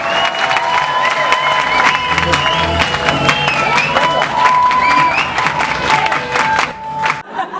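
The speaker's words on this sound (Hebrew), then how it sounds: "מחיאות כפיים למיכל קיבלו!" A stand-up comedy audience applauding and cheering for comedian Michal Kirzon, with dense clapping and whoops that stay steady before thinning out at the end.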